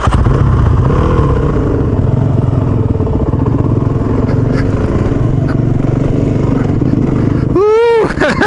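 A Suzuki DRZ dual sport motorcycle rides off-road on sandy desert trails, its engine droning loud and close without a break, with wind noise, light clatter and a short rising whine near the end.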